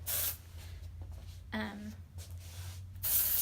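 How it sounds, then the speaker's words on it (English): Aerosol dry shampoo sprayed around the face and hairline, with two bursts of close hissing spray at the start and end and quiet handling sounds between. "my dry shampoo, just so she can go a little longer. Spray around her face and hairline."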